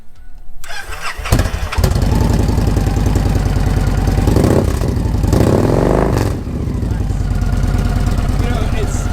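A Victory Cross Country motorcycle engine cranks and fires up, then settles into a loud, throbbing idle with a brief rev midway.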